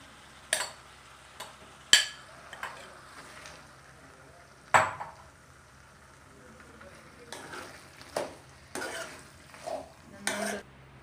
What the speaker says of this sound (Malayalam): മസാല വറുത്ത് വെച്ചിരിക്കുന്ന മസാലയെല്ലാം കൂടെ ചേർത്ത് ഇളക്കി കൊടുക്കാം